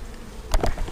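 Honey bees buzzing around an autumn hive during a small fall honey harvest, a couple of brief close buzzes passing by over quiet outdoor background.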